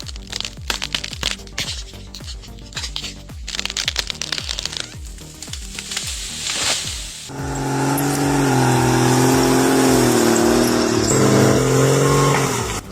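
A John Deere 640H skidder with a 6.8-liter turbo diesel engine pulls massive logs at a firewood operation. Rapid rhythmic mechanical chugging gives way midway to a loud, steady, droning engine note under heavy load, close and continuous.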